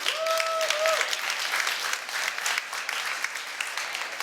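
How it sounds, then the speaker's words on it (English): Applause from a keynote audience at an Esax event fills the room as dense, sustained clapping with a few whoops, holding steady throughout. "Can we get a round of applause for Esax,"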